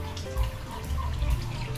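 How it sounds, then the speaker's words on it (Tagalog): Water pumped through a solar-powered setup into a kids' swimming pool, splashing and gurgling nearby with a low churning rumble and uneven surges. "nagpapampa ko ng tubig sa swimming pool ng bata, pero yung ginagamit ko ay solar"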